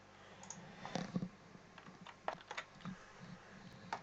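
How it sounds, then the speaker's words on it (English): A computer mouse clicks during spreadsheet work, a handful of sharp, quiet clicks spaced irregularly over a soft room hush. "Just right click on each of the other ones"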